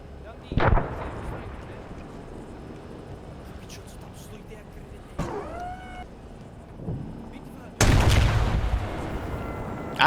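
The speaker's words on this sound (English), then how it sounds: "See some gunfire down there." Gunfire and explosions in a military video game battle: sharp bursts near the start, a few scattered shots through a low rumbling background, then a long loud volley of fire at the end, with speech in the background.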